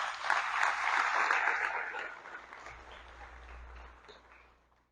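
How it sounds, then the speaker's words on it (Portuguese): A church congregation breaks into applause, the clapping loudest at first, then gradually thinning and fading away over a few seconds. "Pode aplaudir o Senhor?"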